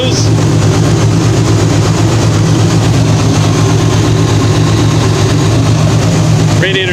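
A Chevrolet C10 pickup with a 454 V8 idles after a cold start, producing a loud, steady, low rumble that stays constant throughout, with a faint brief sound near the end.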